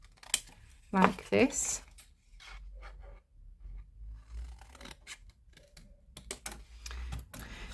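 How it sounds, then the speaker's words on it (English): Scissors snip through card while making a snowman cracker treat box: a few short, crisp cuts close by, with a person briefly speaking. "we're going to grab our scissors and we're going to just cut up"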